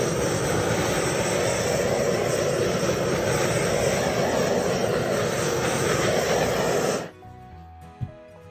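A torch flame blowing over an acrylic fluid-art split cup ring pour gives a loud, steady roaring hiss for about seven seconds, then cuts off abruptly into near quiet.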